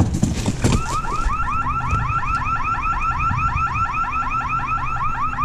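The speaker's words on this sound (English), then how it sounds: "Alarm's going off, bro." A car alarm blares near a dumpster, a loud rapidly repeating electronic whooping siren cycling steadily, preceded by a brief clatter of rustling plastic and debris.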